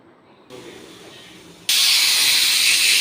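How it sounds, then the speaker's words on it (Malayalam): A pressure cooker cooking green gram on the stove lets off steam: a soft hiss builds, then bursts into a loud, steady, sustained rush. "കുക്കറിൽ വിസിലൊക്കെ വന്നു"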